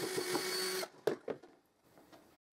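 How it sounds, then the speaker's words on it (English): A powered screwdriver whirs for under a second as it backs screws out of a wooden crosscut jig, followed by a few sharp clicks and knocks before the sound falls quiet. "So I unscrew these screws."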